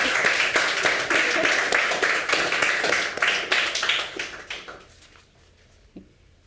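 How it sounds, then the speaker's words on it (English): Clapping from the audience at an artists' conversation event rings out full and steady, then thins and fades to a few stray claps, with a faint murmur of voices near the end. "maybe first we could give Avi a round of applause"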